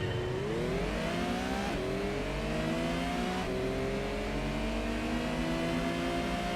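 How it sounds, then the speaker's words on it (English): A Nismo 400R in Gran Turismo revs its engine, a loud close drone rising through several gear shifts with steady acceleration. "This engine sound."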